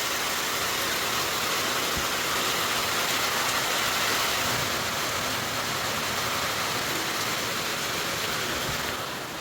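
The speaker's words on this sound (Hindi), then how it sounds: "इतनी तेज़ बारिश पड़ रही है, मतलब एकदम आई है, बहुत तेज़।" Heavy rain pours down in a dense, unbroken roar that stays steady and close, with no voices.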